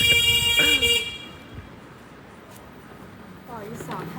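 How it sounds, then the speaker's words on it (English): A car horn blares loudly and close for about a second, aimed at a pedestrian on a sidewalk, then traffic hums faintly while a person talks. "See how this lady be honking at me when I'm on the sidewalk?"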